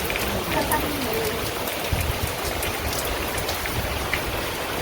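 Heavy rain pours steadily during the rainy season in Bangladesh, a dense continuous patter on surfaces close by, with a voice talking faintly beneath it.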